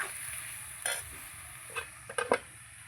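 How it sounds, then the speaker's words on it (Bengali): Fried flat beans and potatoes stir-fried in a pan: a soft, quiet background hiss broken by a few short spatula scrapes and clinks. "এই যে সিমটা আমি ভেজে রেখেছিলাম, এই সিমটা দিয়ে দিচ্ছি। আলুর সঙ্গে খুব ভালো করে কষিয়ে নেব।"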